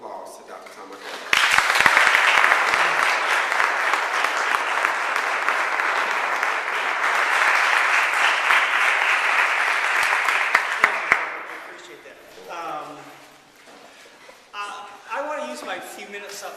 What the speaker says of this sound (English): Please give a round of applause to Dr. Tom Marcaro.